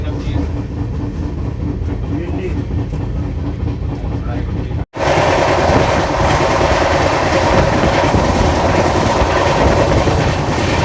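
Indian Railways passenger train running, heard from on board an express between Nimuch and Mumbai: loud continuous rumble and rattle of wheels on track with a brief cut midway and a slightly brighter roar after it.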